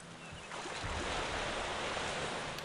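A waterfall in the video game Psychonauts gives a steady, full rush of falling water, a dense continuous hiss that swells slightly after the start and holds without pause. No one talks over it.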